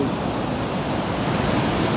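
Giant sea waves crash continuously on the shore during a violent storm, a loud, dense roar of surf and spray with wind noise and no pauses.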